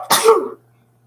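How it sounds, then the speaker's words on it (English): A single sneeze bursts out close and loud, a sharp explosive onset trailing into a short breathy fade, then quiet. "Oh no, I'm about to sneeze."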